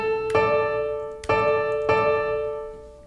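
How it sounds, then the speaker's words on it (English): A perfect fourth interval sounds on piano three times in a row, each a clean struck pair of notes ringing and fading gently, clear and close with no talking. "To get a perfect fourth, which sounds like this, has kind of an open sound"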